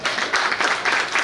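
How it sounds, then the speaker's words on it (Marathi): Applause at a school class reunion gathering, a crowd clapping steadily and fairly close in a continuous rippling patter with no talk over it. "जोरदार टाळ्या."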